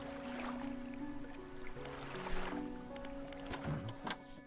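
Fishing boat engine in the game Dredge: a steady low droning hum with tonal overtones, running continuously at moderate level with some faint clunks and splashes over it.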